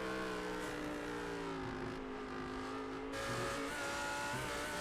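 An Audi GT3 race car in a racing video game drones steadily with engine tones that drop and shift as it gears down, a sustained mechanical roar without talk.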